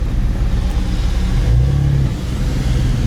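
A rare old car that sat parked for years idles and rumbles, its engine running steadily with a brief rise in revs midway, loud and close.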